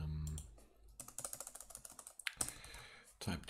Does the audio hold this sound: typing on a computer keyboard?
yes